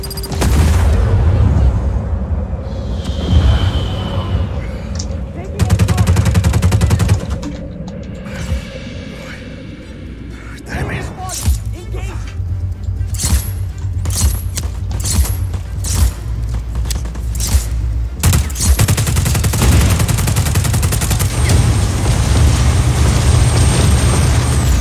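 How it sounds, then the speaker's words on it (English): Gunfire hits a generator in Just Cause as repeated shots and explosive booms crack over a loud, continuous game soundscape, with someone talking at times. "Now I guess I shoot it in the guts."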